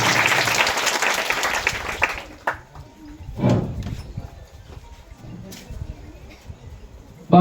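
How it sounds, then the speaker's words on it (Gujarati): Applause at a primary school program in a village, loud and dense for about two seconds before dropping away, then a short second burst, with quieter crowd noise filling the rest. "જોરદાર તાળીઓના ગડગડાટથી વધાવીશું આપણે સૌ."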